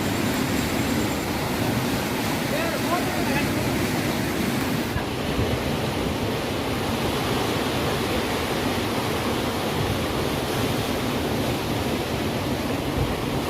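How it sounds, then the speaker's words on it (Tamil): Big ocean waves crash and roar continuously along a shore, a dense, loud wash of surf with wind buffeting the microphone and no pauses in the sound. "பெரிய அலை உண்மையாகவே பெரிய ஒரு அலை தான் கீழே அடிச்சுட்டு இருக்குது"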